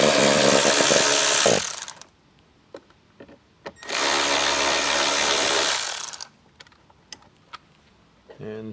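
Power driver backing two screws out of a speaker in a 2024-or-later Jeep JL Wrangler or JT Gladiator, two loud close buzzing bursts split by a quiet gap with small clicks and taps.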